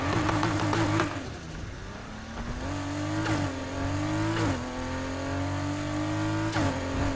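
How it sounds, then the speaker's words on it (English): An RSR car engine in Need for Speed Heat revs up and down in several rising and falling sweeps, with a close, continuous tone and brief gear shifts, heard alone. "It's an RSR engine, like the stock one."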